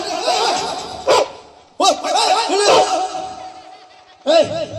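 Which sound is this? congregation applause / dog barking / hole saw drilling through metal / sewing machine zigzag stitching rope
dog barking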